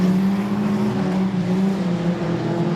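Junior sedan race cars roar steadily around the Kingaroy Speedway track, a loud, continuous engine drone with a sustained low hum and slight pitch wavering as they run down the main straight.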